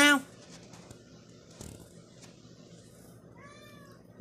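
A person imitates a cat's meow, a short high-pitched call near the end, quieter than a loud sound at the very start, over a low room hush.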